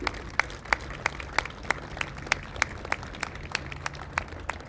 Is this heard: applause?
yes